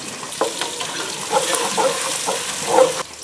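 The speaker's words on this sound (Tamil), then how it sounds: "இப்போ வெங்காயம் நல்லா வதங்கட்டும்" Continuous sizzling of onions sautéing in hot oil, close, with occasional stirring scrapes and clinks, ending abruptly.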